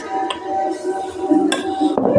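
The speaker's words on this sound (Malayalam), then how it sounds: "ഇനി നമുക്ക് 2 സ്പൂൺ മാവ് ഒഴിച്ച് നോക്കാം." Batter is spooned into a hot unniyappam pan, making soft metallic scrapes and light clinks close by, with a gentle sizzle underneath.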